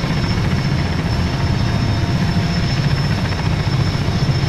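A helicopter in the video game Arma 3 flies with a steady, loud rotor and engine drone, low thumping rotor wash filling the whole stretch without any voices.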